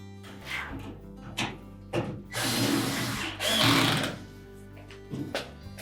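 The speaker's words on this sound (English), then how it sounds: "now we'll secure it with the screws up through the front panel into the main top" A power driver whirs in several short bursts, with a couple of longer runs and thunks, close by as screws go up through the front panel into the metal top of a GE dryer.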